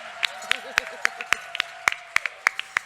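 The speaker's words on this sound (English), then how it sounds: "Can we give her one more round of applause?" At an Odissi dance debut recital, a small audience gives scattered, separate handclaps that ring out sharply and unevenly while a voice talks underneath.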